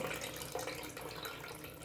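Water drains from a squeezed cloth bundle of homemade paneer, a faint, continuous trickle and splash with no talking.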